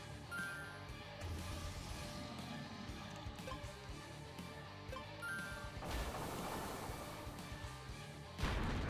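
A fire move attack in the creature-battling video game Nexomon: Extinction roars as a dense, continuous rush of crackling, booming noise, swelling louder near the end with a final burst.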